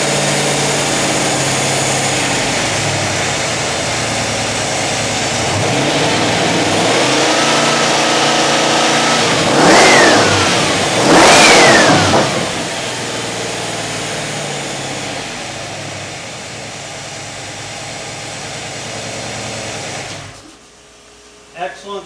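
Ford 302 V8 fitted with EZ-EFI fuel injection runs loud and steady, revving up through two sharp throttle blips before cutting off abruptly near the end.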